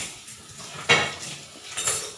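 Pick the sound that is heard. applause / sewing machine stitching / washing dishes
washing dishes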